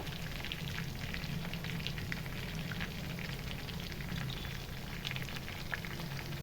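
Curry leaves frying in coconut oil for a Kongu Nadu style biryani, a steady dense crackling sizzle with fine popping that holds evenly throughout, with no talking.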